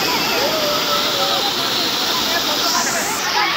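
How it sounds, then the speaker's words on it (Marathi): A waterfall near Matheran on a foggy day, pouring down in a loud, steady roaring rush close by, continuous for the whole stretch, with a voice talking faintly beneath the roar. "बघा मस्त असा वॉटरफॉल खाली जातोय"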